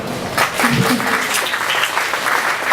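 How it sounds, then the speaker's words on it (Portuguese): A crowd claps for the bar at a humor exhibition on the Paulista coast, brisk applause from many hands with a brief voice near the start, steady and fairly loud before easing slightly. "Palmas para o bar."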